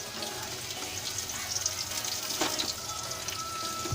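Paneer frying in refined oil in a pan, a steady soft sizzle and crackle running throughout at moderate, even loudness with no voices.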